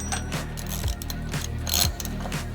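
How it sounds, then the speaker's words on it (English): A hand ratchet tightens the axle nut on an SE Bikes Beast Mode Ripper bicycle wheel, giving a close, rapid clicking of the pawl in short back-and-forth strokes with no talking. "I'm going to tighten down the axle nut."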